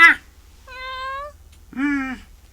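A cat meows twice, each call clear and fairly close, with a short pause between them and a brief sharp sound at the very start, set within an Ilocano-language drama.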